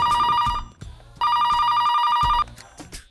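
A telephone rings loudly in two long electronic bursts separated by a short pause, with brief background sounds between rings.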